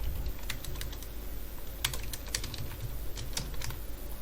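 Fingers type on a computer keyboard while someone builds an Android app, a quick irregular patter of close key clicks with brief pauses between bursts.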